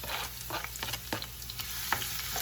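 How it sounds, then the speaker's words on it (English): Onions sauté in hot oil in a pan over high heat, with a close, steady sizzle and crackle broken by short scraping stirs, no voices. "we're going to go ahead and incorporate the onions,"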